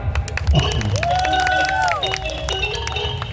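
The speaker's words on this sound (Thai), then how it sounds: "ขอเสียงปรบมือหน่อยครับ" At a live Thai folk stage performance, a crowd applauds and cheers while a sustained sung or droning tone sounds over the clapping and babble.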